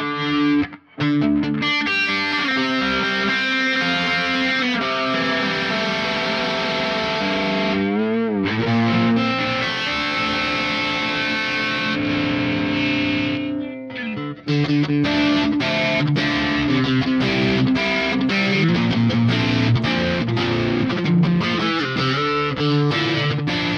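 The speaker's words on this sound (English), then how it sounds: "Let's go into stereo mode so we can kind of simulate what it would sound like" Distorted electric guitar through a Neural DSP Archetype Nolly X amp plugin, double-tracked in stereo, plays heavy chugging riffs with sustained chords, brief pauses between phrases, loud and upfront with no voices.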